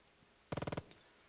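A short, sharp burst of about seven rapid machine-gun shots in the WWII tactics game Burden of Command, loud and close, fired alone against quiet background.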